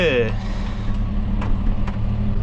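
An Ursus C-360 tractor's Perkins diesel engine runs steadily nearby with a deep, constant low rumble that holds throughout, joined by a few brief clanks.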